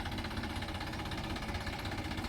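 A tractor's diesel engine drives through a road flooded with sewage water, its wheels sunk deep, giving a close, loud, steady knocking chug with no speech.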